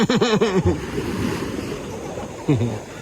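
Ocean surf washes onto a beach at Botolan, Zambales in a steady rushing roar, with loud voices calling out at the start and again near the end.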